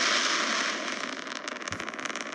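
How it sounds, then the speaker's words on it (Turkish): A rocket launch in the Henry Stickman game, heard as a loud, steady roaring hiss that breaks into a dense crackling rumble as it goes on, with no talking over it. "Roket gidiyor."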